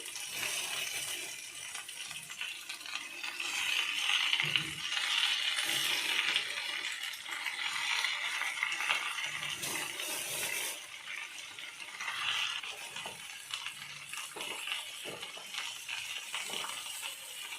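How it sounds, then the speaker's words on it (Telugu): Gongura leaves cooking down in oil in a pan on a stove, a steady frying crackle and hiss with occasional louder bursts and clinks, close and continuous with no talking. "ఆయిల్ వేసి గోంగూర ఇందులో వేసి మనం మగ్గించుకోవాలి"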